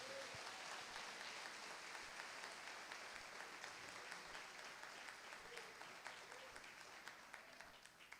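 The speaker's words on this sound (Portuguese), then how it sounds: "Quem pode aplaudir ao Senhor nesta noite?" Steady, sustained applause from a church congregation fills the whole stretch, dense and even, fading slightly at the end.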